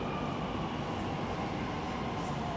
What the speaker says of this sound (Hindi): आ गया मेट्रो।